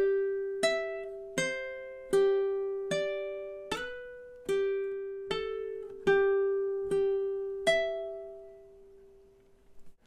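Two measures of a Hawaiian song on ukulele, about ten plucked notes and chords in an even, unhurried pulse, ending on a long ringing note that decays; near and solo, with no voices.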